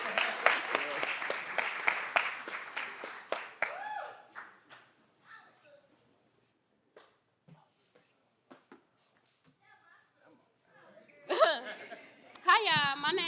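Audience applause at a YouthBuild St. Louis City commencement ceremony, a dense burst of clapping that fades out over several seconds, then quiet with scattered sounds before a voice speaks near the end.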